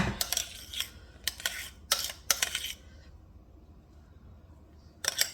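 A utensil scraping and spreading cream cheese while making pear cobbler from scratch: a few short, sharp scraping strokes close up, a pause, then one more scrape.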